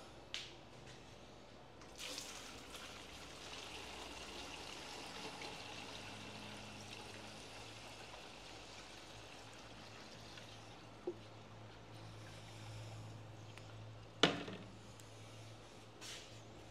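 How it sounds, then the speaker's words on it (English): Dirty diesel-type fuel mixed with water is poured into a water-filtering funnel, giving a quiet, continuous trickle and stream of liquid, with a few faint taps and clicks scattered through and a low background hum. "So I've got some nasty fuel here with a bunch of bugs, and there's some water. And we're going to pour it in here"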